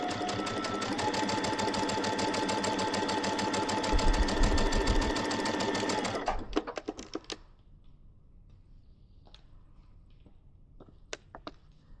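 An embroidery sewing machine quilts a metallic fabric table topper with a fast, steady needle chatter for about six seconds, then stops and gives a few scattered clicks and ticks in near silence.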